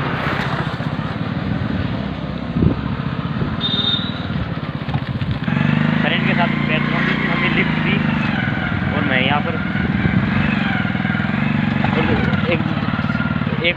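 A motorcycle rides along a road at night, its engine droning steadily and rising in pitch midway, while someone talks over it almost the whole time.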